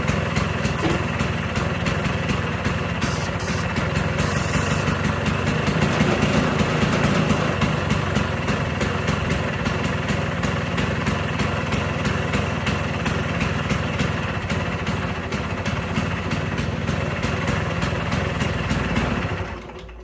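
A 1979 Vespa scooter engine runs roughly for the whole stretch, a loud, buzzy, uneven small-engine drone up close with no talking.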